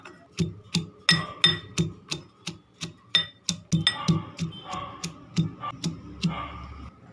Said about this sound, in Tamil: இப்போ பூண்டு இடித்து வச்சுக்கலாம்.